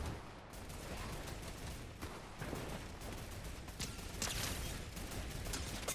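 Rapid bursts of gunfire in the video game Fortnite crackle continuously through dense background noise, with a few louder volleys standing out near the end.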